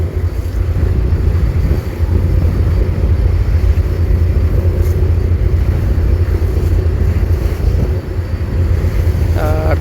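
A passenger launch named Manami passes close by on a river while overtaking. Its steady engine rumble and rushing water are heard from aboard another launch, the Rani Suravi 7, under constant heavy wind noise, loud and unbroken.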